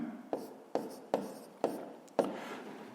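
A pen writes an answer on paper, five short scratchy strokes at an even pace, close and quiet.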